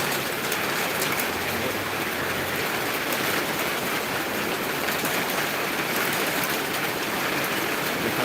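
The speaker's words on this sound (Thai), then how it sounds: "ฝนตกหนักแล้วโอ้ย เดี๋ยวฝน เดี๋ยว ดูดูดูดูฝน" Heavy rain pours down outdoors in a dense, continuous hiss that stays loud and even throughout, with no voices heard.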